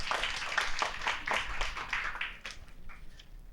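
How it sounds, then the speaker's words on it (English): Audience applause at a launch event for a responsible energy initiative in the Philippines, a steady burst of many hands clapping that holds for a few seconds before thinning out and fading near the end. "Let's give Marla a round of applause"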